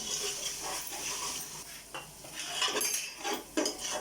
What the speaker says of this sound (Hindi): अब अच्छी तरह इसको मिक्स कर लेते हैं, अच्छी तरह मसाले को भून लेते हैं